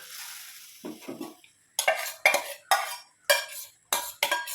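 Jackfruit seeds go into a simmering curry and are stirred, giving a string of loud, separate scraping and clattering strokes of a spoon against the pot, each one distinct and spaced apart, with no talk.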